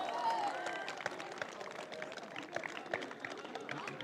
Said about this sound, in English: your applause for Finland